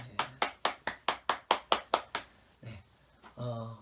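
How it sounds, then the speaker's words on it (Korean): At the close of a Korean church's Wednesday worship service, a congregation claps hands to glorify God in about a dozen quick, evenly spaced claps, fairly soft, followed by a voice and tonal sound. "우리 박수로 하나님께 영광을 올려드립니다."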